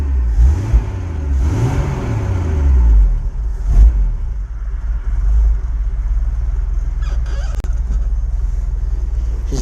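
A 1981 Ford Bronco's 300 inline-six engine, freshly started after sitting 15 years, revving in a few rising and falling surges over a deep rumble, loud and close.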